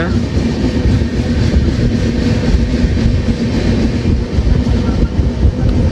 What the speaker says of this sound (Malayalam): Podanur junction railway station skip അടിച്ചുകൊണ്ടിരിക്കുകയാണ് നമ്മൾ.